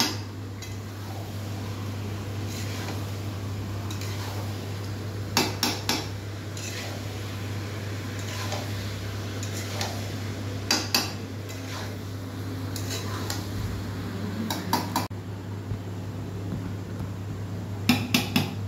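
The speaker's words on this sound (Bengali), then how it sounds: "এবারে আলুগুলো দিয়ে দিচ্ছে, দিয়ে ভালো করে আলুগুলো মশলার সঙ্গে ভালো করে কষিয়ে নেবে" Metal utensil scraping and clinking against a pan as potatoes are stirred and fried with spices for an egg curry, with intermittent clusters of knocks over a steady background hum.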